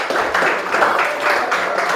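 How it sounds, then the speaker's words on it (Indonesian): A classroom group applauds a student group after its presentation, steady dense clapping at moderate volume with no voices on top, lasting about two seconds. "Tepuk tangan dulu untuk kelompok 2"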